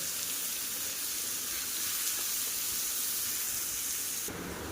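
Onions fry in ghee for egg biryani with a steady, close sizzle and hiss that continues without pause. No one speaks.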